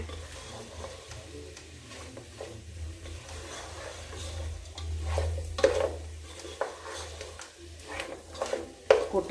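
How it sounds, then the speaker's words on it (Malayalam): Butter chicken masala is stirred in a pan as the butter sizzles. A spoon scrapes and knocks against the pan in irregular strokes that grow louder toward the end, over a constant low frying hiss. "നല്ലപോലെ മിക്സാവട്ടെ നല്ല മിക്സാവണേ"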